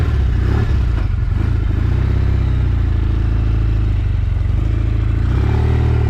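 A Norton Commando motorcycle, freshly serviced, runs loud and close with a steady low throbbing engine note and a slight rise in revs, just as it sets off on a ride.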